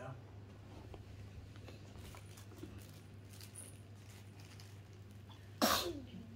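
A single sharp, loud sneeze bursts out near the end, after several seconds of quiet room tone with faint background noise.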